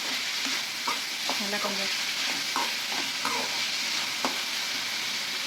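Salted onions sauté in a pan for prawn gravy, with a constant close sizzle and repeated spatula scrapes and taps, while a voice speaks a few words briefly.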